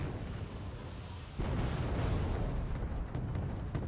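A Buk air-defence unit firing in Wargame Red Dragon, a sudden heavy launch roar that swells and holds over distant battle rumble, with faint pops afterward.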